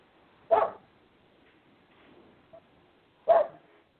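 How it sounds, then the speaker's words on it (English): A dog barks over a radio call-in phone line, two sharp separate barks a few seconds apart with a small yip between, slightly thin and compressed, over quiet line hiss. "Sounds like we got a dog on the line."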